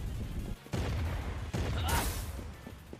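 A Secret of Mana boss unleashes a fire-breath attack, rendered as loud crackling, roaring bursts of blasts that come in surges, one cutting off briefly before a longer rushing whoosh swells and fades.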